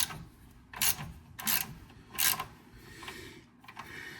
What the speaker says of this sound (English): There's 5 bolts, 3 across the front, 2 in the back. And you just take those out.